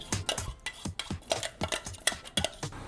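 Grated coconut is stirred into mung bean flour in a bowl, giving quick, rhythmic scraping and tapping strokes, close and fairly quiet with no talking.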